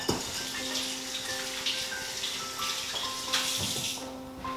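Fresh carrots with their greens rinsed under a running kitchen tap, a steady close hiss of flowing water with faint splashing shifts and no talk.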